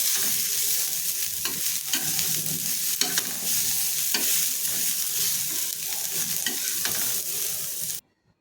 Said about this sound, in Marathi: आपल्याला पुन्हा ते छान मिक्स करून घ्यायचं आहे